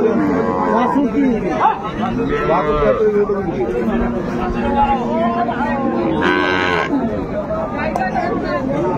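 A dairy cow moos repeatedly at a cattle market, long drawn-out lows close by, while people chatter in the background throughout.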